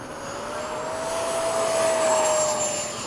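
A model F-5 jet on its first flight at Bayside whines steadily overhead, a continuous high engine tone that swells slightly as it passes, heard at a distance with no talking.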